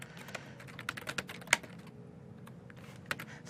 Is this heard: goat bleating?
no